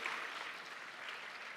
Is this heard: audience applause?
yes